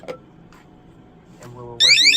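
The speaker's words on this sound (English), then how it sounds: "when these get wet, or when the sensor here gets wet, you'll get an alarm sound like such" A Govee water leak sensor set off by getting wet starts a loud, rapid, warbling electronic alarm at the very end, after a few quiet taps and a short soft tone.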